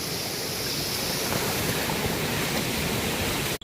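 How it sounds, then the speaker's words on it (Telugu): Kalu waterfall in Malshej Ghat, Maharashtra roars as a continuous, dense rush of falling water, steady and loud throughout with no voices. "మనం కలు వాటర్ ఫాల్స్ దగ్గరికి అయితే వచ్చేసాం"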